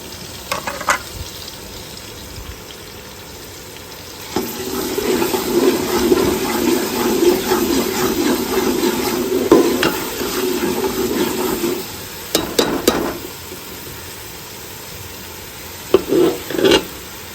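Spices fry in a pan over heat with coriander added, a steady sizzle and stirring hiss that swells in the middle and tapers, broken by brief clanks, with no talk.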